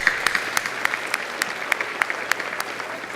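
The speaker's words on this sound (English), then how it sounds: "Let's give them a round of applause for that" A dinner audience of several hundred gives a round of applause, a thin patter of separate claps with distinct sharper hits spread through it, steady and moderately loud in a large hall.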